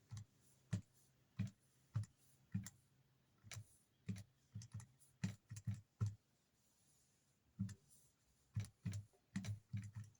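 Calculator buttons are pressed in quick, irregular bursts of small plastic clicks, close and quiet, with short pauses between groups of presses.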